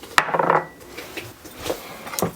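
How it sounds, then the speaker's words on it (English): Cookie ingredients, including vanilla, cinnamon, salt, baking soda, baking powder and eggs, being mixed in a bowl for oatmeal cookies: a sharp clink, then a burst of scraping and stirring that trails into a few quieter knocks. "Mix this up real nice."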